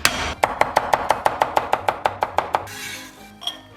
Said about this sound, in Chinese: 然后咱们把蒜给它拍碎